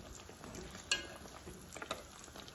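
Johnny Cakes fry in oil with a soft continuous sizzle, while a spoon flips them, giving a couple of light metallic clinks against the pan.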